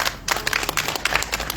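An audience at a candlelight rally against THAAD in Gimcheon claps steadily, a dense wash of overlapping hand claps that holds at an even level from start to finish.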